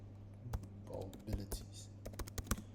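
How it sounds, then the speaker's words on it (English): Irregular clicks of typing on a computer keyboard, close by, with a low steady hum and a brief murmur of voice in the background. "I'm going to be typing in maths"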